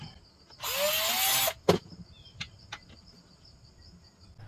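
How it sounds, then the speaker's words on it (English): A short whirring burst of a power drill boring a screw hole in a wooden walnut cannon, lasting about a second, followed by a few scattered clicks and taps. "Now to drill the hole for the next screw"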